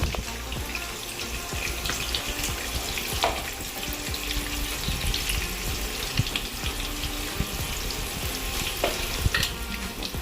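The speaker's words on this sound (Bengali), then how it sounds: "ভেজে নিন। এটা ভাজতে থাক।" Potatoes seasoned with turmeric fry steadily in a pan for a mutton biryani, a dense continuous sizzle with occasional scraping stirs and light clinks, close and fairly loud, with no talking.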